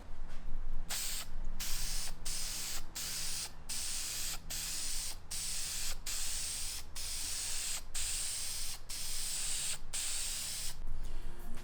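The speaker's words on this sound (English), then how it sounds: "So I went and picked up a can of vinyl and fabric coating." An aerosol can of vinyl and fabric coating sprays a car hood liner in a series of steady hissing bursts, each separated by brief pauses, close and fairly loud with no talking.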